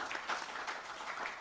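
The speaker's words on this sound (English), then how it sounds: "please give a big round of applause to him" Applause from an audience at a conversation event honoring Covid warriors in Madhya Pradesh, a brief steady burst of clapping at moderate distance with no talk.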